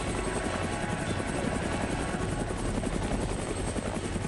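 A helicopter in the video game Fahrenheit drones steadily with a dense rotor thrum, loud and continuous throughout, with no voices over it.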